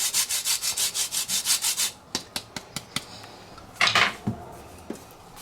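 Citrus peel rubbed against a zester: a steady run of about a dozen quick rasping strokes, then scattered light taps and a brief scrape, close and clear with no voices.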